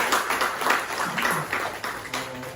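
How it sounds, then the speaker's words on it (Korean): Brief, moderate applause from a seminar audience on North Korean human rights law, scattered clapping filling a short stretch of a conference hall. "큰 박수 부탁드립니다."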